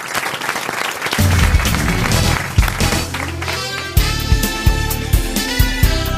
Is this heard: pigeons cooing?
no